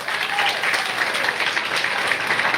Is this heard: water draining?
no